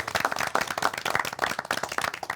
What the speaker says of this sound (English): A round of applause for Marcus.